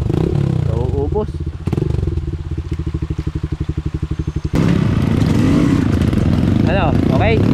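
Motorcycle engines labouring on a hard mountain trail ride from Baler to Dingalan, Aurora, with a rapid pulsing engine beat in the middle, rough clattering and scraping throughout, and people talking over the noise.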